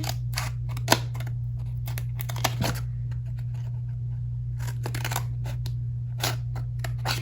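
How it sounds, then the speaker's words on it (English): Scissors snip along the edges of paper for a miniature bookcase key chain craft, giving sharp, irregular clicks in bursts over a low, steady hum. "you're gonna cut these edges again, just so it's carried over to the paper"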